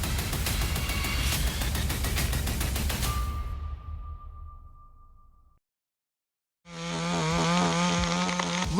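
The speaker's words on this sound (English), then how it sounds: "The chainsaw roars powerfully" A chainsaw cutting tree branches, running loud and steady, then winding down and stopping, followed by a short silence and a hard restart at high revs.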